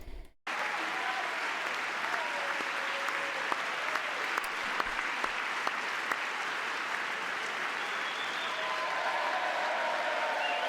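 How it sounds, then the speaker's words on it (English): Dense crowd applause at a Republican political gathering, a steady wash of many hands clapping that holds for the whole stretch after a brief opening burst. "They're pretending to be happy and clap."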